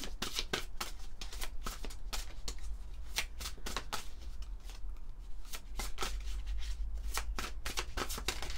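Oracle cards are shuffled over and over by hand, giving a quick, regular run of soft riffling flicks, close and fairly quiet.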